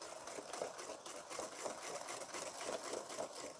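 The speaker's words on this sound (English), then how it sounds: "you really do need a whisk for this, so make sure you whisk it" Chocolate mud cake batter whisked by hand in a bowl: a steady, rapid rhythmic scraping and clinking, close and continuous throughout.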